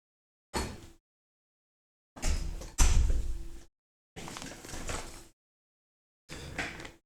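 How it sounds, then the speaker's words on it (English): A door is shut indoors in a series of separate thuds and rattles, several distinct knocks and a heavier slam spaced out between silences. "I gotta shut the door"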